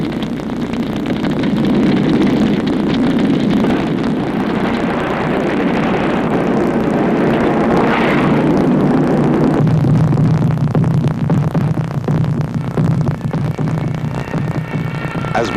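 Warplanes drone loudly and continuously overhead, their engines throbbing in a dense, steady roar that shifts to a lower hum partway through. No voices are heard.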